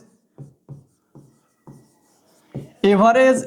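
Chalk or marker strokes on a board as someone writes an average formula during a maths class, a handful of short scratchy marks followed by a voice speaking.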